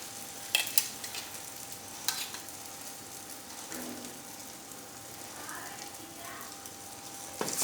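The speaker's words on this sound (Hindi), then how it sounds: "कांटे की मदद से उठाएंगे और इसके अंदर डाल देंगे ऑयल के अंदर। ऑयल बिल्कुल गर्म हो चुका है।" Pieces of roti dropped into hot oil for a fried snack, a soft continuous sizzle punctuated by sharp clinks and scrapes of a fork, close up with faint speech in the background.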